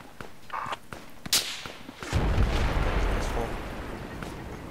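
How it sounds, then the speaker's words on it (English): Gunfire and bullets striking nearby in Project Reality, a few sharp cracks and snaps, then a heavy boom rolling into a sustained rumble, with voices talking underneath. "There's bullets hitting just right over me."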